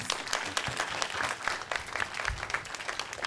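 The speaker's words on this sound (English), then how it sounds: "let's give our panelists a round of applause" An audience claps steadily in a dense round of applause, loud and sustained throughout.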